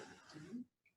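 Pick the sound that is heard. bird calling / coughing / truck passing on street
coughing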